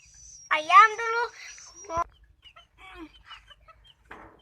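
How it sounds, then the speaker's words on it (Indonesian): Pet chickens clucking nearby in short, bright bursts, with a few fainter clucks and bird calls following in a quiet outdoor setting. "Tuh teman-teman, ayamnya yang terlalu banyak."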